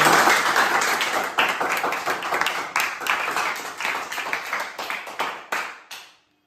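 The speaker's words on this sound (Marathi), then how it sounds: "तर टाळ्या वाजा अश्विनी" A small group claps for Ashwini, who solved a number puzzle, in a burst of fairly loud, close hand claps that thins into scattered claps and stops abruptly near the end.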